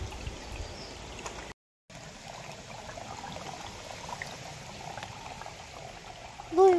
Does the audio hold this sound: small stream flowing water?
yes